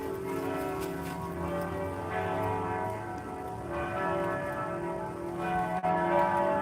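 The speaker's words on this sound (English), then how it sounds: "Those are the bells that John has to live with all the time" Church bells ring from a steeple at a street corner in Denver's Colfax and Logan area, a steady sustained peal with overlapping tones and long resonance, heard from outdoors at moderate distance without talk.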